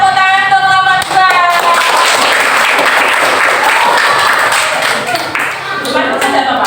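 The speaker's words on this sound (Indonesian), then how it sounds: "Beri tepuk tangan untuk kelompok 2" A loud, dense burst of applause fills an Indonesian classroom as students clap for a presenting group. A voice is briefly heard under the clapping at the start, and the clapping fades slightly near the end.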